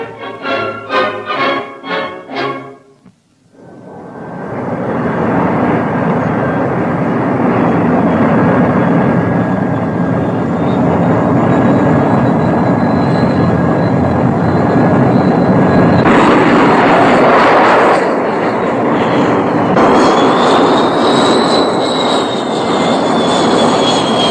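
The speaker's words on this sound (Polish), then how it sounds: "Zapuszczać silniki." Aircraft engines starting up on a 1950s military airfield, beginning after a few seconds of someone talking and swelling into a loud, steady roar, with a rising whine joining later.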